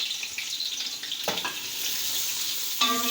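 Two medium onions sizzling in a cup of hot oil in a pan, with a steady bright frying hiss and a few louder crackles and stirring clatters, close and continuous.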